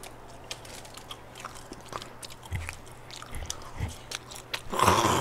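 Close, quiet biting and chewing of snow cheese potatoes with fried chicken, soft wet crunches and a few sharper bites over a low hum, growing louder near the end.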